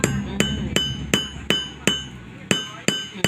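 Sharp metallic hammer strikes set a snap button, landing at an even, steady pace, nine close, loud taps with brief ringing between them.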